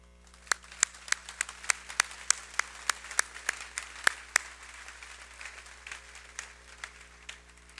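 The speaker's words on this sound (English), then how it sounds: "Another round of applause for that." Applause follows a chamber choir's performance at a high school graduation ceremony, with distinct sharp claps for about four seconds before fading into lighter scattered clapping over a steady low hum.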